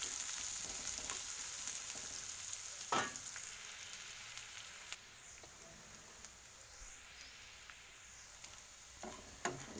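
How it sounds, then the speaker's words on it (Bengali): Chopped onions frying in oil with ginger and garlic paste, a continuous soft sizzle with occasional stirring scrapes and light clinks. "পেঁয়াজ কুচিগুলো একটু ব্রাউন শেডে এলেই তখন আদা আর রসুন বাটাটা আমি দিয়ে দেব।"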